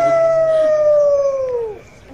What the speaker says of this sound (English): Every year, this time, at the full moon, the Beast appears atop the highest peak in town and howls his